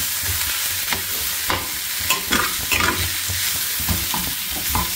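Paneer frying in a nonstick pan gives a continuous close sizzle, punctuated by scraping and tapping as it is stirred and turned, with no talk.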